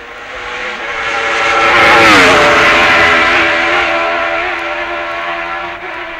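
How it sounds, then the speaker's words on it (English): The big Honda racing motorcycle of the 1966 Isle of Man TT roars by at full revs, its dense multi-harmonic engine howl swelling to a peak as it nears, bending down in pitch and gradually receding. "And here's the big Honda."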